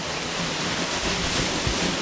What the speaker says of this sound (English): then the waterfall is going into the corner at a goofy angle